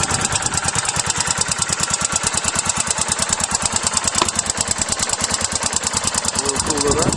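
Yamaha SRX 600 single-cylinder motorcycle with original exhaust and silencer idling close by, a loud, rapid, even thumping pulse throughout, with someone talking faintly over it.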